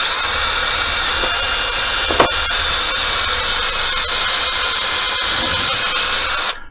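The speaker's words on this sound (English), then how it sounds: "So I'm going to start by drilling a hole" An electric drill bores a hole through the top board of a wooden cottage-style coat rack with cubbies, whining steadily and loudly up close for several seconds before stopping abruptly.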